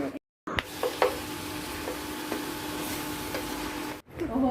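Curry stirred in a hot pan, a steady sizzle with a few spoon scrapes and clinks, briefly interrupted by silence near the start and end.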